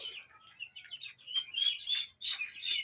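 Young Rhode Island White cross chicks, about a month old, give a run of quiet, high chirps and soft clucks, close and continuous with a brief pause near the end.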